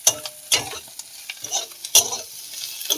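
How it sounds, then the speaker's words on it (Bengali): Prawns fry lightly in oil, with a steady sizzle broken by several sharp scraping stirs spaced across a few seconds, close and fairly loud. "খুব বেশি ভাজবো না, হালকা করে ভাজবো।"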